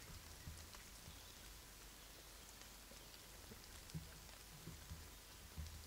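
Soft, steady video game rain pattering with occasional slightly louder drops, faint and even throughout, no voices.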